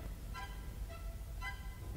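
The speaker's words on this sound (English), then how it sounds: "you'd hear the duck quacking in the wolf's belly." A duck quacks from inside the wolf's belly in a performance of Prokofiev's Peter and the Wolf: three short, nasal, honking quacks spaced apart, fairly faint over a steady low background.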